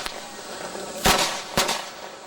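Firecrackers set off during a Miao minority funeral procession on a street in China crack in a few sharp, loud bursts, one brief pop, then two strong blasts with a short gap, over steady outdoor background noise.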